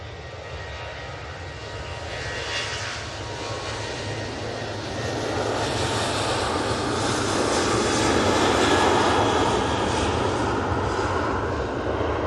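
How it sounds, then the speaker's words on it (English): A Ryanair jet airliner takes off at Manchester Airport, its loud broadband engine roar building midway and holding steady to the end, with no talk. "Ryanair is going off to fake Brussels."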